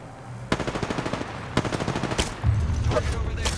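Weapon fire in the Apex Legends battle royale game: several bursts of rapid automatic shots separated by short pauses, then a few heavier single blasts, loud and close with no voices.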